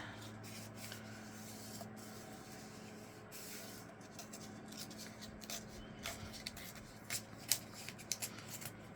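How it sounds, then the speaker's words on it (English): Paper is torn by hand in short, faint rips and rustles that grow a little sharper and louder toward the end, in a quiet room. "Gotta actually tear the smaller side."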